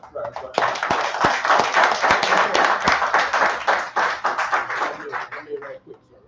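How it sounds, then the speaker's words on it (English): A crowd claps steadily for several seconds, a dense burst of applause that tapers off toward the end. "Give a round of applause"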